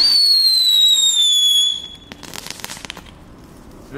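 Aldi Knetter Kinks crackling fireworks go off: a loud, descending whistle comes first, then a burst of dense crackling pops that fades into a quieter scatter of snaps, with no voices.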